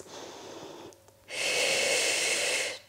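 Long, steady breaths during an arm workout: a softer breath, a brief pause, then one sustained loud exhale lasting over a second with a rushing, airy hiss, close to the microphone with no talking.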